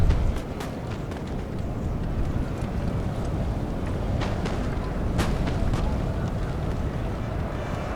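Musket volleys crackle across a grassy Italian battlefield in a Napoleon: Total War multiplayer battle, with scattered sharp reports over a steady, wind-like roar from the massed fighting.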